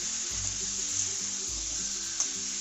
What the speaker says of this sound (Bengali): দিয়ে ভালো করে নাড়িয়ে দিচ্ছি, নাড়িয়ে চাড়িয়ে দিচ্ছি যাতে ভাজা ভাজা হয়